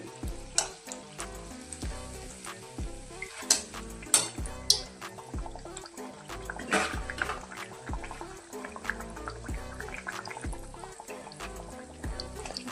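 Vada pav vadas deep-fry in oil over a low flame, a continuous bubbling sizzle broken by occasional sharper pops and stirring clatter, moderately loud and without talk.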